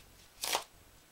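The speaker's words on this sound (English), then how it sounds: "give the cards some" A single brief riffle of playing cards being shuffled, a quick soft flutter close by in a quiet room.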